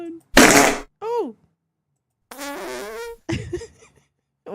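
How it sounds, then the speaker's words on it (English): A long, deep fart sound effect, loud and close, in several blasts separated by short gaps, some with buzzy, rising tones. "Fart long and deep."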